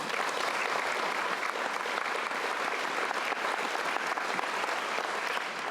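Audience applause at a bar association annual meeting, a broad, sustained wash of many hands clapping that stays loud and even from start to finish with no voices.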